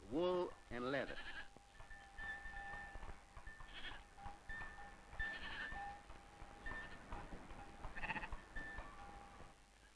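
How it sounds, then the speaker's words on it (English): Goats bleating in sparse Greek mountain pasture, several repeated calls spread through the clip, moderately close, with someone narrating over them throughout. "Only goats can live on the sparse grass."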